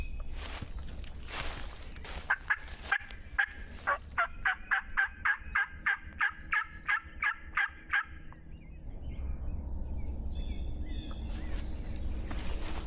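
A wild turkey gobbles out in the West Virginia woods, a rapid, rattling burst of a dozen or so throaty pulses lasting several seconds, moderately distant over quiet outdoor background noise.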